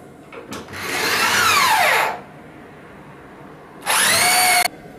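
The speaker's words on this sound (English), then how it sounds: "now that I've drilled all my pocket holes, I'm ready for some assembly" A power drill bores pocket holes into wood cabinet panels for a sink base: two close, loud whirring bursts, the first longer with a falling pitch as it bites into the wood, the second shorter.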